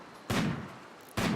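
Two sharp gunshots in RimWorld, a headshot among them, each a loud sudden crack with a short decaying tail, spaced about a second apart with no voices.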